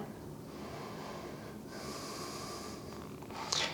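Heavy nasal breathing held in a yoga wheel pose, long airy inhales and exhales rising and falling close to the microphone, ending in a sharper snort-like exhale.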